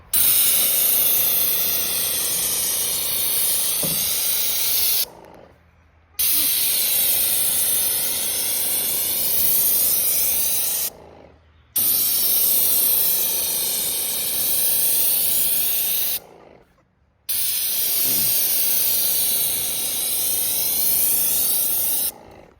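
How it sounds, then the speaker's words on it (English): Paint sprayer applying stain to a wooden fence board, four long loud hissing spray passes of about five seconds each, divided by short silent breaks, close with no speech. "You just take your sprayer and you go."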